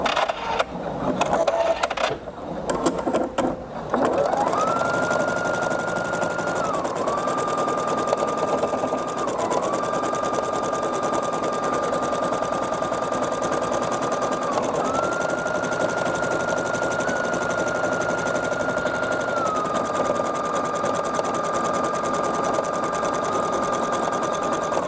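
A Brother Sapphire 85 embroidery machine stitches an appliqué placement line in a fast, even, buzzing whir with a steady pitch that dips briefly a few times, preceded by some handling clatter at the start.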